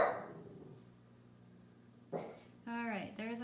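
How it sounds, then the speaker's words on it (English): A dog gives a few short, sharp barks near the end, close by and fairly loud, after a quieter stretch with a faint hum. "Mine can be pretty obnoxious sometimes when it comes to barking"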